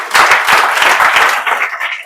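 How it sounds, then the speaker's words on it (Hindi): An audience breaks into close, loud applause, quick overlapping claps that hold steady for about two seconds before thinning slightly. "तो उसके लिए आप लोग ताली बजा दीजिए।"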